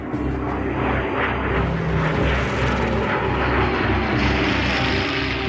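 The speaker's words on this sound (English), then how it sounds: "On a summer's morning in 1940, hundreds of fighter planes took off from runways all over England." Fighter planes taking off in England in 1940, a loud, continuous propeller-engine roar close by that holds steady throughout with no other sounds.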